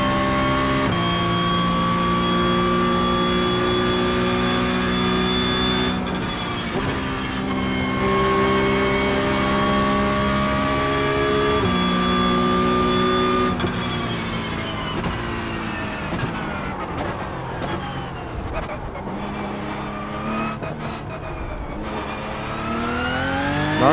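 Race car engines roar continuously in the iRacing sim racing game, loud sustained tones shifting pitch as the cars rev and change gears, with no talking.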